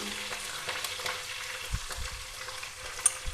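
Green chillies crackle and sizzle in hot oil, with sharp pops and spits over a steady frying hiss, close up.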